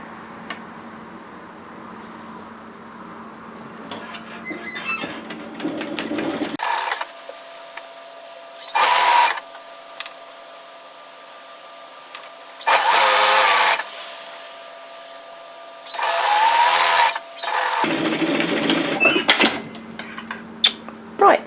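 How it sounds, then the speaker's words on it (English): An overlocker serges the edge of a fabric top in several short, loud mechanical bursts separated by pauses, with a steady motor hum and faint clicks in between. "go to your overlocker and serge finish that edge as well"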